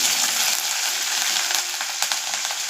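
Curry leaves and chopped green chili sputter in hot oil for a yogurt tempering, a loud close crackling sizzle with scattered pops throughout.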